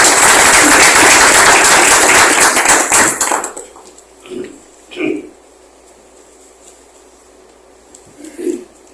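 Loud, dense audience applause welcoming a speaker to the stage, lasting about three seconds before cutting off; afterwards a few faint bumps and short spoken sounds follow in a quiet room.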